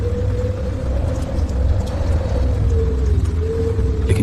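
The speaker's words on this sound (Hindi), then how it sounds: "चारों तरफ सिर्फ आंधी की साए साए गूंज रही थी।" Storm wind howls steadily around a room at night, a low continuous rumbling roar with a thin wavering whistle above it, loud and unbroken, with no voices.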